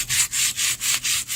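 A small brush scrubs a 1962 Mercury Comet aluminum wheel in quick back-and-forth strokes, a steady rhythmic rasping repeated about six times, close up.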